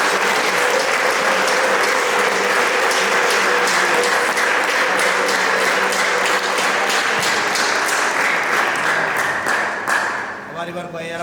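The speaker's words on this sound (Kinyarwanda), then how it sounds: "Tuyishimire, tuyikomere amashyi." A church congregation at a gospel choir service claps in sustained, dense applause, with voices ringing over it, before the clapping thins and fades near the end.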